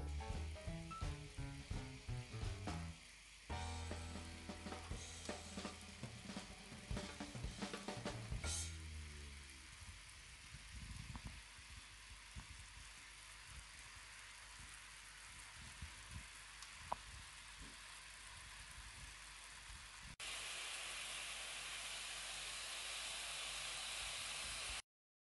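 A saturated solution boiling rapidly in a jar gives off a steady, close sizzling hiss with crackles and bubbling, and it grows louder and more even toward the end.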